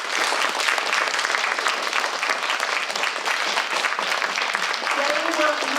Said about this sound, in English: I think these 4 poets deserve a round of applause